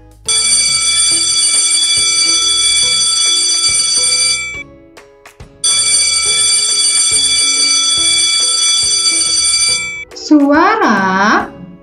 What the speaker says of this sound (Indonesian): bel sekolah.